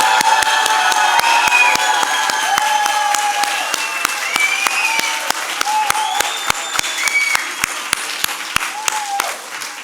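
A church congregation claps and cheers loudly in praise, a steady wash of applause with scattered shouts and whoops rising over it, close and full, tapering slightly toward the end.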